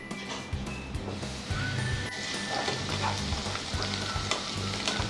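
Chopped onion pieces sizzle and fry steadily in a hot pan for a Telugu-style fish curry, with stirring scrapes and clatter throughout; a faint dog bark may sound once in the background.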